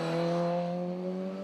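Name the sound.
Mini Cooper S race car with straight cut gears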